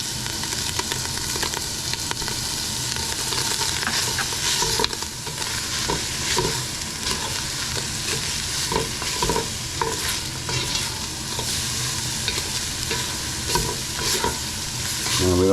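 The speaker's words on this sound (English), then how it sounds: "Now we're gonna go ahead and add our onions and let them sweat for about 3 minutes or so." Onions and seasonings sweat in a pan with a loud, steady sizzle and crackle that carries on throughout, with light stirring scrapes now and then.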